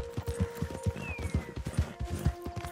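Horse hooves clip-clop in a steady, close rhythm as a mount moves through a Red Dead Redemption scene, with a faint tonal game sound in the background.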